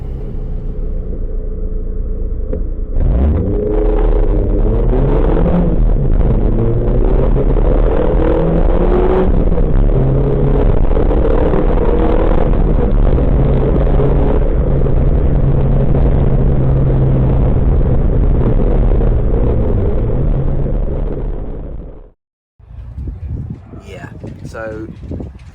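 A Ford Fiesta ST driven on the Goodwood track, heard from inside the cabin as a loud, steady engine drone with shifting revs and road rumble, stopping abruptly near the end before a voice speaks.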